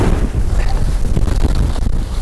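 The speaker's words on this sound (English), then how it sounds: "Oh, here comes the wind." Strong wind buffets a winter backpacking tent and the microphone, a loud, continuous roaring rush with gusty surges and no pause.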